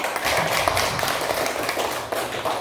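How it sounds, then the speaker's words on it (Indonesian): Classmates applaud group 1 after its discussion presentation, a close, busy patter of many hands clapping steadily for under three seconds with a slight dip before the end. "mari kita berikan tepuk tangan untuk kelompok 1"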